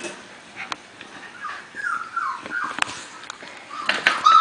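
Young pups whimper and yip nearby in thin, rising whines that come and go, with a few sharp higher yips near the end over soft background rustling.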